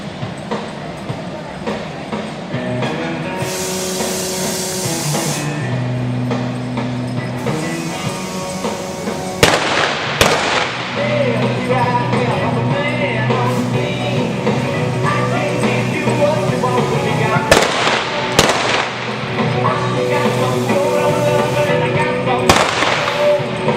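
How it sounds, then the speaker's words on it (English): Gunshots crack at a horse expo during a cowboy mounted shooting display: several sharp, loud reports spaced irregularly, ringing out over steady background music and arena noise. "If you haven't seen cowboy mounted shooting, watch, because we're going to show it to you right now."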